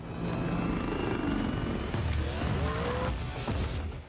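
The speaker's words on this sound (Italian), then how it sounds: "Credo stessero cercando di simulare lo sforzo che faceva l'elicottero per evitare che i veicoli lo trainassero" A helicopter in a film scene strains against attached vehicles, its engine and rotor roar holding steady and loud throughout, with rising whine tones mixed in.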